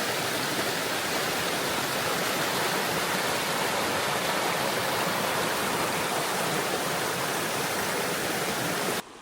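A creek flowing along a hiking trail in Idaho's Sawtooth Mountains in fall, a steady, loud, broadband rush of water with no pauses, close by and unaccompanied.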